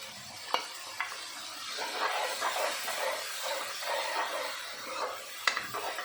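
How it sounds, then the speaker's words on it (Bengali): Spice paste for Bengali bele fish curry frying in oil, a steady hissing sizzle with scraping stirs across the pan and a couple of sharp utensil knocks at the start and end. "এবার মশলাটা আমি কষাবো"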